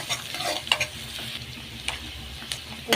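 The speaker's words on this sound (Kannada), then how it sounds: "ಇದೇ ರೀತಿ ಒಂದು 2 ನಿಮಿಷ ಈ ಥರ ಫ್ರೈ ಮಾಡಬೇಕು." Chopped onions and green chili fry in about two tablespoons of cooking oil in a pan, giving a steady close sizzle with a few sharp scraping stirs and clinks.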